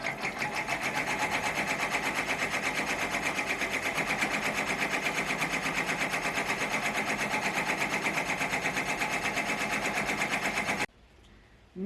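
A sewing machine runs steadily through a quilted stitching design on a mini composition book cover, a fast even needle rhythm close by for about eleven seconds before stopping abruptly.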